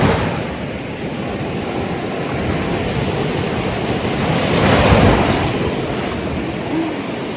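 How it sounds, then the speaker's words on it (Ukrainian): Mediterranean Sea waves wash onto the shore at Tarragona, Spain, in a continuous loud rush, swelling midway as a bigger wave breaks, with wind buffeting the microphone. "Сьогодні хвилі."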